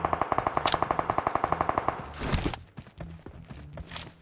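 Rapid automatic gunfire in PUBG Mobile, a fast even burst of about twenty shots over two seconds, followed by a couple of heavier, more scattered shots and clatter.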